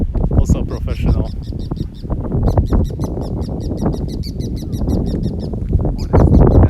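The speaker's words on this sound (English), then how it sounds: "What is that bird doing" A bird calling outdoors in Tokyo, with rapid repeated high chirps in quick bursts under loud city noise and nearby talking.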